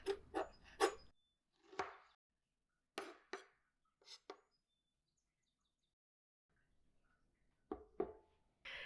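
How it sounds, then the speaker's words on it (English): A knife chops through enoki mushrooms on a cutting board in a quiet kitchen: a quick run of three sharp taps, then scattered single cuts with pauses between them, close and crisp. "So now we have cut up our mushrooms"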